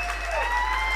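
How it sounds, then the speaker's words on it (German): Brief burst of crowd applause at a political rally greeting Sahra Wagenknecht, a dense steady clatter of hands over a low hum. "ganz, ganz großen Applaus für Sarah Wagenknecht"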